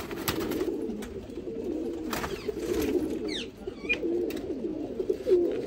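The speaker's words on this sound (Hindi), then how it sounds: "आपको कबूतर दिखाता हूँ" A pair of pigeons coos repeatedly with low, throaty rolling calls, close and continuous, joined by a few brief higher bird chirps.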